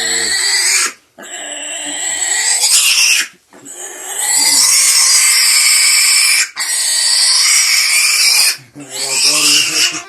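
Three orphaned wild boar piglets, rescued on the Estonian island of Muhu, squeal loudly and shrilly at close range in long, continuous bursts broken by brief pauses.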